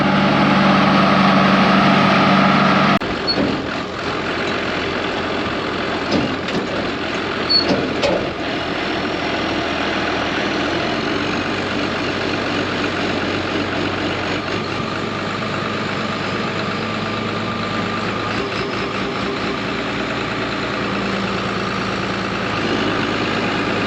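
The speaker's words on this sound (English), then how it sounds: "He's gonna give me a little tug with the tractor." A tractor engine runs steadily under load while towing a buried old pickup truck free during a Kansas wheat harvest, with a continuous heavy diesel drone, a louder burst at the start and an occasional hiss, with no talking.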